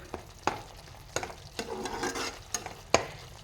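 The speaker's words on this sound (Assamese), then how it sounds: "এতিয়া সকলোখিনি ভালদৰে মিলাই অলপ সময় তেল বিৰিঙা দেখি এইখিনি ভাজিম।" Cabbage masala frying in oil hisses steadily while a spoon stirs and scrapes the pan in a few distinct strokes, with a busier stretch of stirring in the middle. No voices are heard.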